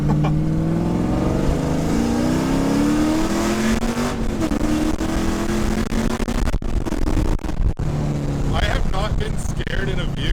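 An LS-swapped Nissan S13 accelerates hard, its V8 roar climbing steadily in pitch through the gears. The engine stays loud and close throughout with a few brief dips, as if heard from inside the car.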